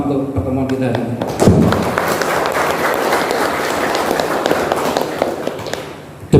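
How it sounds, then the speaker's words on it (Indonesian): An audience at an Indonesian organisational gathering claps together, a dense, steady wash of applause sustained for several seconds before fading out, with a voice audible near the start. "kita tepuk tangan bersama untuk pertemuan kita hari ini"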